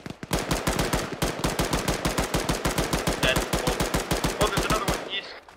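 Rapid automatic gunfire in a video game, a steady loud burst of evenly spaced shots that runs for about five seconds before cutting off abruptly.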